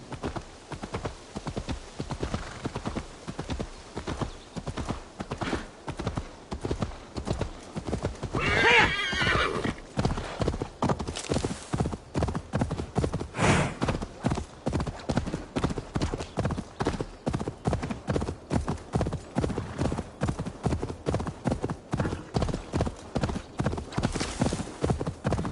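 Horse hooves clip-clop in a steady, rapid rhythm in the video game Assassin's Creed Valhalla, continuing loud and close for the whole stretch with a brief whinny partway through.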